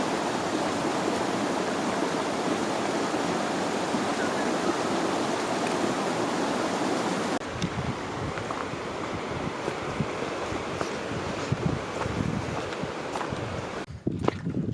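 Snowmelt creek water rushes beneath a layer of snow high on Colorado's Mt. Antero. A continuous, fairly loud rushing flow is mixed with gusty wind buffeting the microphone.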